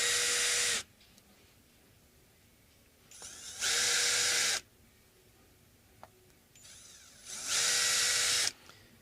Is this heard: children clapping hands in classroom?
no